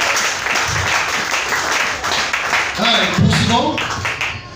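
A church congregation claps and applauds to acclaim the Lord, a steady patter of many hands that runs throughout while a voice keeps speaking over it.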